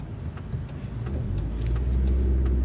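A car pulls onto a roundabout off the DK1 national road in Dąbrowa Górnicza, its engine a steady, close mid-range rumble that swells slightly as it accelerates, with no talk.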